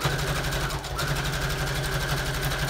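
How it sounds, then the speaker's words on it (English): A sewing machine stitches lace onto fabric, running steadily with a fast mechanical hum and chatter that holds throughout, up close with a brief dip near the start. "now I'm sewing the lace on"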